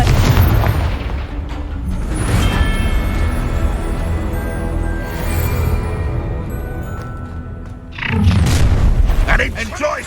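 A Confringo explosion spell goes off in Hogwarts Legacy as a deep, loud boom with a long rumbling tail, then a second heavy blast under a shouted voice.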